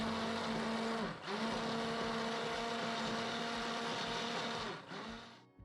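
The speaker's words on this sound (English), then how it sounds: "Once the potatoes were soft, I blended this all down until it was smooth." A blender whirs steadily as it purées stock with soft potatoes and chillies, loud and continuous, with two short dips where the motor briefly slows before it cuts off at the end.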